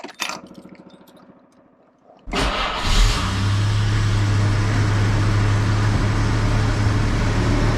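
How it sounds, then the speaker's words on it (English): A Jaguar engine with the choke on cranks with a rapid chugging starter, then catches and settles into a loud steady idle with a low hum, close by and without speech. "last time starting the Jag. Let's see how she goes. Choke on."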